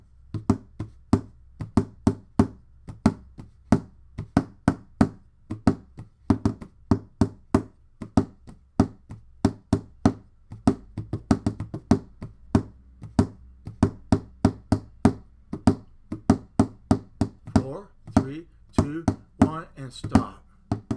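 A wooden spoon drums steadily on household objects, including a chair, producing dozens of deep, close thunks and knocks in a quick irregular rhythm that runs for the whole stretch without talk.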